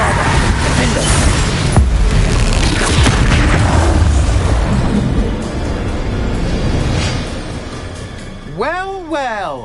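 Bombarda and Confringo explosion spells in the Hogwarts Legacy video game go off as loud, continuous rumbling booms and crashes, followed near the end by a voice speaking.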